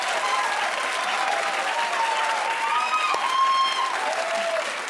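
A TV studio audience claps steadily throughout, a dense even wash of applause with a few faint whoops or voices rising above it near the end.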